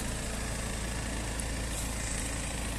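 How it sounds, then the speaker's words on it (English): A recently serviced BMW 320D 2.0 diesel estate idles steadily, a smooth, even low rumble with no revving, heard close and alone. "engine sound very nice and smooth"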